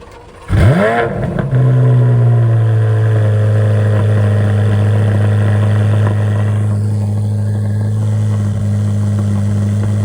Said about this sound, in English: Last cold start with an iPhone.